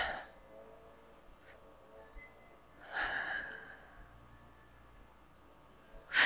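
Deep breathing during a seated yoga stretch: a few slow, close, audible inhales and exhales with soft airy rushes and pauses between, heard alone in a quiet room.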